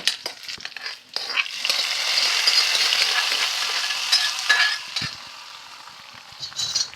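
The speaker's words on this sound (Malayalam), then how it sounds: "അപ്പോൾ ചെറിയുള്ളിയൊക്കെ നന്നായി മൂത്ത് കഴിഞ്ഞ് ഈ ഒരു കളറാകുമ്പോൾ നമുക്കിത് നമ്മുടെ കറിയിലേക്ക് ഒഴിച്ചു കൊടുക്കാം." Hot fried shallots in oil poured into a ridge gourd curry give a strong, steady sizzling hiss that swells, holds for several seconds, then fades out, close up with no talking.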